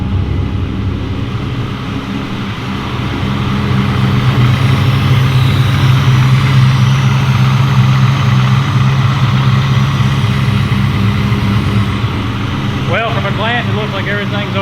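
A 2003-2004 Cobra with a Gen 5 Whipple supercharger runs steadily, its loud, constant engine drone rising slightly after the first few seconds and holding throughout, with brief voices breaking in near the end.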